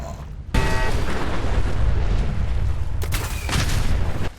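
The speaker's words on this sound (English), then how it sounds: "there's been nuclear explosions in the water cooling tunnel" Explosions in the water cooling tunnel of the Fallout 4 video game, a sharp onset followed by a long rumbling roar, with a second loud burst near the end.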